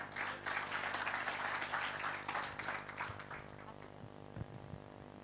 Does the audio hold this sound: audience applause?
yes